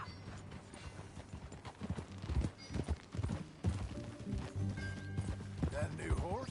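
Horse hooves clip-clopping at a steady riding pace in Red Dead Redemption 2, with an occasional whinny, heard under background music and game speech.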